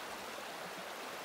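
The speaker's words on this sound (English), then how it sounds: "The soothing sound of babbling water." Babbling mountain stream on a day hike in the Rockies near Yellowhead Mountain, Mount Robson Provincial Park; a steady, close, full-bodied rush of flowing water with no voices.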